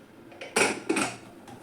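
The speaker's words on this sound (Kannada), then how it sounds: "ಕುಕ್ಕರ್ ಕ್ಯಾಪ್ನ ಕ್ಲೋಸ್ ಮಾಡ್ತಾ ಇದ್ದೀನಿ." A metal pressure cooker lid is set on and closed during palak rice cooking, giving a few close, sharp metallic clanks and scrapes, the two loudest knocks coming close together.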